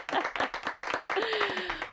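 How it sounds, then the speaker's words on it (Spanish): An audience applauds after a song performance, a short burst of close, dense clapping with a voice briefly heard over it. "Aplaudimos"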